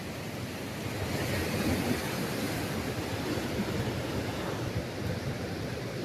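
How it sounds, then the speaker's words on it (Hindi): Floodwater rushes past a destroyed 40-year-old bridge, a loud, steady broadband roar of flowing water with wind buffeting, continuous for the whole stretch and with no speech. "क्या पानी का बहाव है।"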